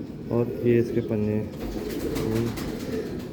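Pigeons coo in soft repeated bursts among breeding birds in a loft, close by, with someone talking over and between the calls.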